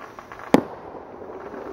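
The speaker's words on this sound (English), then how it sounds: "The next door neighbor's just lighting all these nice fireworks." A single sharp firework pop goes off in a neighbor's backyard during a Fourth of July weekend, a brief crack followed by a faint fading tail against a quiet evening background.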